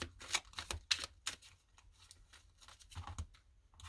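Oracle cards are shuffled and drawn in quick, crisp riffling flutters with short pauses between them. The sound is close and fairly quiet, and no one speaks.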